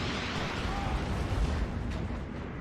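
Eight chunky 150mm rockets from a Hurricane launcher land a strike in Steel Division 2, heard as a loud, continuous roar of overlapping blasts and deep rumbling that barely eases across the whole moment.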